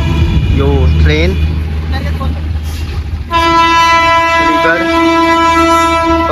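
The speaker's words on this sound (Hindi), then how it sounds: "यो ट्रेन" A train horn blares in long sustained blasts, loud and near, after a passing rail rumble during a morning ride out in the fields; a voice speaks briefly beforehand.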